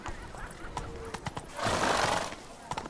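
Horse in The Witcher 3 trotting with steady clip-clop hooves, a brief neigh, and a burst of noise mid-clip, against background game ambience with distant voices.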